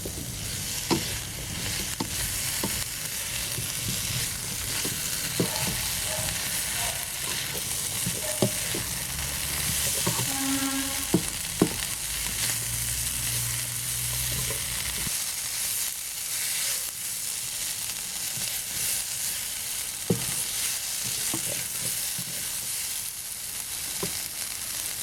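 Beef and cauliflower stir-frying in a pan with oyster sauce and soy sauce give a continuous close sizzle, with scattered clinks and scrapes from stirring and a brief tonal rattle partway through, and no speech.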